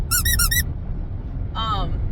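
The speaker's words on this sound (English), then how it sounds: "I have my second favorite new hat, and it squeaks" A squeaky novelty hat gives a quick burst of four bright, close squeaks, then after a short pause a single longer squeak over steady background hum.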